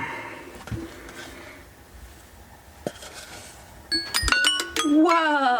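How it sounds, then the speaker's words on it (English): A kitchen timer in a home kitchen goes off with a bright doorbell-like ding-dong chime, several ringing tones stacked near the end after some clatter of a glass bowl and dishes. "He must have put a timer on."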